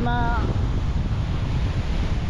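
Rough ocean waves and wind at sea off Mindanao, with a low-pressure area forming, make a dense, continuous roar. Gusty wind rumble dominates, and a brief faint tonal whine sounds at the start.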